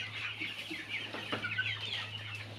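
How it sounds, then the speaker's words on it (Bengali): Hens on a poultry farm cluck softly and repeatedly at close range, a few short calls over a steady low hum. "2-3টে মুরগি একটু ধরে দেন দি"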